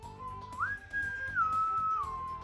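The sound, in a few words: voice imitating a ship's whistles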